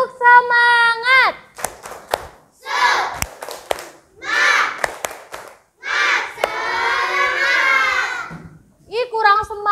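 Primary school class doing a rhythmic cheer-clap in an Indonesian classroom: bursts of children shouting in unison alternate with sharp, spaced hand claps, with an adult voice at the start and end.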